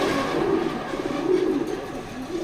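Racer pigeons, including a black pair, coo in low, soft, repeating rolling murmurs, close and continuous, with faint background noise.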